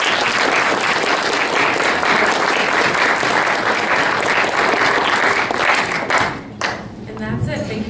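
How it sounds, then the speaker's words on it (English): Sustained audience applause for a panelist at a business panel, dense and loud for about six seconds before tapering, with a brief dip and some voices and murmur as it trails off. "Can we also give another round of applause for Dr."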